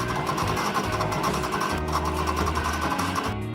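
A sewing machine stitching the side seam of a vintage ruffle dress and attaching a strap, running in a continuous close mechanical whir with a rapid needle rhythm and slight speed changes, no voices.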